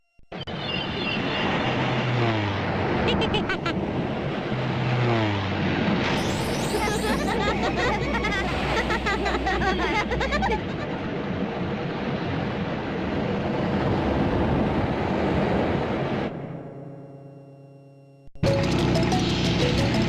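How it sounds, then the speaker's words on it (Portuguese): Diddy Kong Racing gameplay plays as a steady stream of racing sounds, with engine hum, sliding tonal effects and jingly music, loud throughout, then cuts to a brief near-silence before a final burst of game sound. "Saque só pelo menos só um trecho do gameplay desse jogo."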